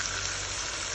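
King steak fish sizzles in a hot pan of seasoning for brown stew, a loud, even crackling fry held close throughout with no talk.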